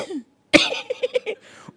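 A person coughs sharply once, then lets out a short run of rough, rhythmic cough-like bursts up close, likely a voice mimicking coughing.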